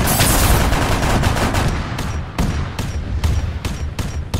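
Gunfire in the video game Arma 3 with a Warhammer mod, a loud sustained burst followed by a rhythmic series of about eight rapid heavy shots, close and continuous, no talking.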